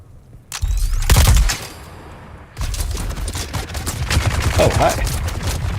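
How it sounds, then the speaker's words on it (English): Sniper fire in Dune Awakening: a loud, sharp shot rings out, followed by a dense, rumbling barrage of battle noise, with a voice talking faintly underneath. "Oh, you got snipers, do you?"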